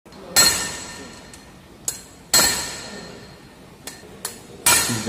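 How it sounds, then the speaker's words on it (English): Heavy metallic blows of a compaction hammer ramming a bituminous concrete sample in a Marshall stability test strike at irregular intervals, each a sharp ringing impact with a decaying tail, alternating with lighter taps. "the process of ramming with the hammer"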